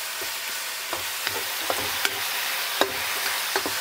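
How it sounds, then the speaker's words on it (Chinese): Pork fried with scallion, ginger, salt, thirteen-spice powder, light and dark soy sauce and oyster sauce, stirred in a wok with a steady loud sizzle and scattered scraping clicks of the spatula. "翻炒均匀，放茴子白。"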